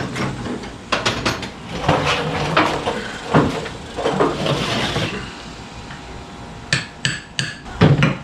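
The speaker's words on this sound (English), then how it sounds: "make sure you get it started in square before you really hit on it with a hammer" Repeated sharp hammer blows drive a seal into place on a John Deere 2030 tractor, irregular metallic strikes at close range with short pauses, a few lighter taps near the end.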